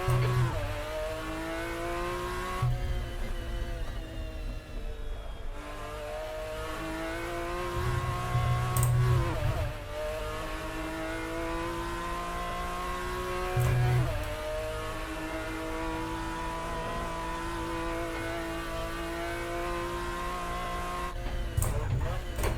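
A McLaren F1 GTR laps Goodwood Circuit in a racing simulator, its engine droning steadily and rising through the gears with repeated shifts, loud and continuous, and no talk.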